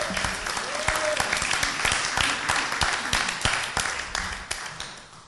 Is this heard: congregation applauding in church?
yes